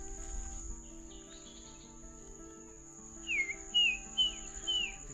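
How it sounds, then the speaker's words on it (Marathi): Birds call in an areca nut garden, a few bright whistled notes rising near the end over a steady background drone of crickets and insects. "जबरदस्त आवाज येतोय पक्ष्यांचा"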